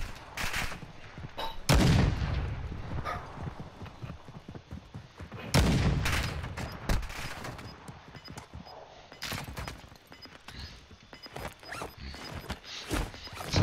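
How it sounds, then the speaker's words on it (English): Gunfire in a Call of Duty match, with sharp bursts of shots crackling through a busy battle mix, two heavier volleys standing out near the start and middle before the firing thins into scattered cracks. "because they keep shooting at me when I'm trying to help"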